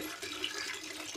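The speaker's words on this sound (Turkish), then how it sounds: "Bol suyla yıkıyoruz." Water splashing steadily as nettles are washed in a basin, a short continuous rush of running water, soft and fairly close, with no voices.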